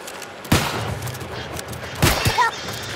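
Gunfire in the video game New World cracks out in a few sharp shots, one early, then a closer pair later, amid a low game soundscape with no talking.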